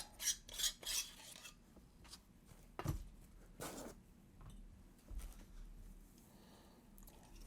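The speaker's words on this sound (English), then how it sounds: "Let's unscrew the grip and have a look inside." The metal grip of a V8 Pixel 2.0 Alpha lightsaber hilt is twisted loose, making faint scraping, rasping metal rubs and a few light clinks, heard close up against a quiet background.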